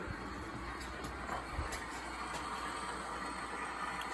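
An HO scale model train runs along layout track, giving a steady, low rumbling clatter with faint rail ticks that stays constant throughout, with no voices.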